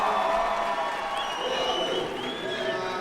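A crowd at a judo tournament applauds and cheers steadily in a large arena, a broad sustained wash of clapping and voices with a commentator talking over it.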